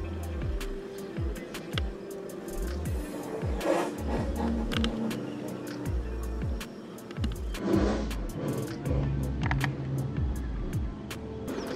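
Cars backed up on a forest road with an angry rhino bull nearby, engines idling and revving in a steady rumble with passing vehicle sounds, moderately loud throughout.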